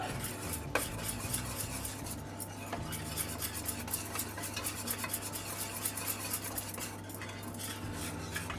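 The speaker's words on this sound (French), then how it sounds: "On va donc mélanger" Quiche Lorraine batter seasoned with nutmeg and salt being mixed in a bowl, producing continuous quiet, rhythmic whisking and scraping against the bowl, close and fairly soft.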